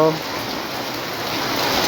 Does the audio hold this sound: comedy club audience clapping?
no